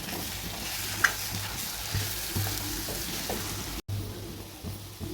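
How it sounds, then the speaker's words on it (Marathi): Crushed potatoes fry and sizzle in a pan while being stirred, a soft crackling hiss broken by a few scraping knocks of the spoon, heard close and fairly quiet with no talking. "चुरून घेतलेलं बटाटा घालूया छानपैकी याला मिक्स करूया"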